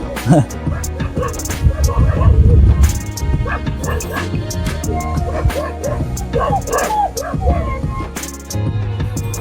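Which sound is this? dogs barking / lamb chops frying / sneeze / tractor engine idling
dogs barking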